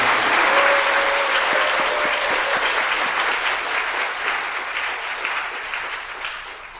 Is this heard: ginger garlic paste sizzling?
no